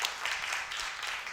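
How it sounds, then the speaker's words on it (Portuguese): A lecture audience gives a faint, continuous round of applause, with dense, even clapping heard from a distance. "Salva de palmas"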